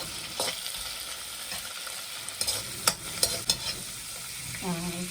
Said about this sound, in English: So I'm going to first of all stir fry this.